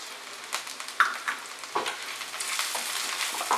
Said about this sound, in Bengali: আমি মশলাটাকে একটু ফ্রাই করে নিচ্ছি।